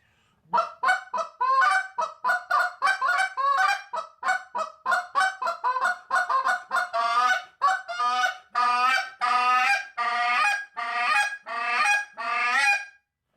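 A handheld goose call blown in a long run of loud, close honks, roughly two dozen calls in a quick, steady rhythm, growing slightly longer and fuller toward the end.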